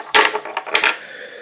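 Old Russian imperial coins from the reigns of Alexander II and Nicholas I, dug up by a treasure hunter, clink together in two bright metallic clusters as they are handled, close and fairly loud.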